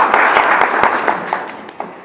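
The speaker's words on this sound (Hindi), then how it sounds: "उनके लिए जोरदार तालियां हो जाए" Audience applause for a team at the inaugural session of a round table conference, a short burst of dense clapping that thins out and fades over about two seconds.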